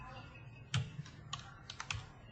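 Quiet keystrokes on a computer keyboard while entering text in Lao, a few irregular clicks and taps spread over a couple of seconds.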